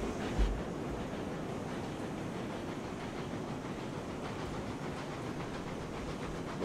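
A steam locomotive in the railroad video game RailRoads Online chuffs softly and evenly, with a faint rhythmic beat wrapped in a constant breathy hiss, distant and quiet with no voices.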